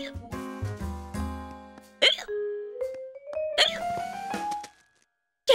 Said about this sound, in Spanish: Llevo con este hipo 2 semanas, no se me quita.